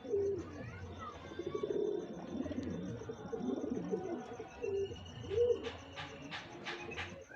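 Pigeons cooing in a loft, soft repeated throaty coos close by, with a few chirps and faint clicks near the end and no speech.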